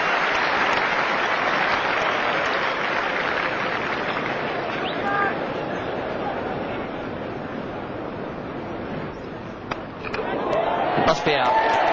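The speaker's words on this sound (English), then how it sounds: "Great ovation here from this Oval crowd." Cricket crowd at the Oval gives a sustained ovation for a half-century during a 1992 England versus Pakistan test match, broad distant applause rolling on steadily, with a commentator talking over it.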